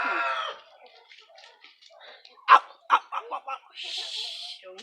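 A person imitates a small dog, with yips, whimpers and short barks, during an animal miming game at a swimming pool; the bursts come in a quick irregular run, and speech-like sounds surround them.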